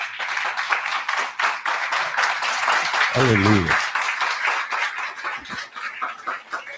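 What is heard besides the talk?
church congregation applauding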